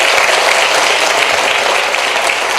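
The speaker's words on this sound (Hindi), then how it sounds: "Okay, if you clap for Jesus, clap nicely, otherwise don't clap." Church congregation at a Hindi-language sermon clapping for Jesus, a loud, steady wash of many hands applauding together without a break.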